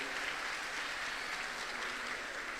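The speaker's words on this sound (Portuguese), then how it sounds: "vamos aplaudir e saudar esse nosso irmão" Audience applause welcoming a speaker at a church event, a steady wash of clapping from a crowd, fairly faint and without voices.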